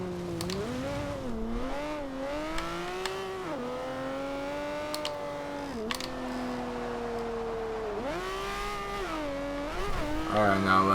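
Aston Martin One-77 driving in Forza Horizon 2, its engine note rising and falling steadily through gear changes and revs, loud and continuous, with someone talking over it.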